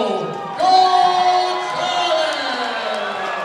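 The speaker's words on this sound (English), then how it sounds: "And the crowd loves it." Crowd at a Chosen Few Fighting Championships MMA event roars and cheers after a second-round rear naked choke submission win is announced, a swelling burst of whoops and shouting that stays loud under an announcer's amplified voice.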